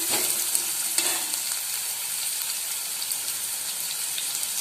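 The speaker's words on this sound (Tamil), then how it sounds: "இப்போ வெங்காயத்தை நல்லா வதக்கி விட்டுக்கலாங்க." Chopped onions sauté in hot oil in a pan for bread masala, a continuous crackling sizzle. Stirring scrapes come near the start, and the frying carries on alone with no talk.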